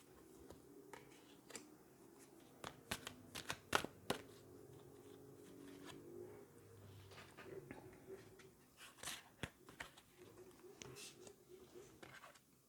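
Tarot cards being laid out and turned over, soft papery snaps and slides in scattered clusters, close and quiet against a faint room hum.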